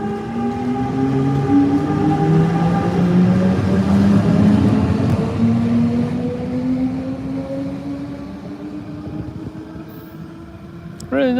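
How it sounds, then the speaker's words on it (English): A Swiss passenger train, about 20 years old, pulls out of the station with a rising whine of electric motors and rolling rumble, loud and close at first, then fading as it moves off, with a brief voice near the end. "Here goes the train."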